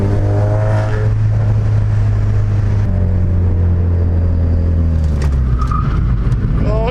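A Ford Focus RS driven hard to warm its tyres gives a loud, close engine roar that rises, drops at a shift, and builds again, with a brief squeal of grip near the end.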